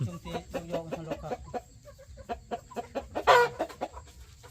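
Chickens cluck close by in short, repeated bursts, with a louder, more excited squawk near the end.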